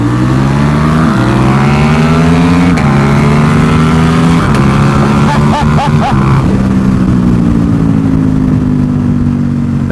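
A Ducati motorcycle accelerates hard nearby with a loud, continuous engine roar. The pitch dips briefly, then climbs and holds before easing slightly, with faint wind and road noise underneath.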